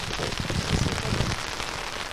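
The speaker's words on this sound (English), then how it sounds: "rain comes steadily now at Jamaica College." Steady rain pours at an outdoor track stadium at Jamaica College, a dense, even hiss of drops filling the scene with no voices, constant and fairly loud throughout.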